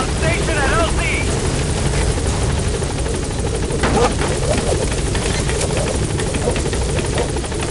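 Helicopter arriving at a landing zone in the video game Metal Gear Solid V: a loud, continuous rotor thrum and engine roar throughout, with radio-style voices talking over it.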